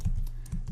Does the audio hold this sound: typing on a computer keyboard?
yes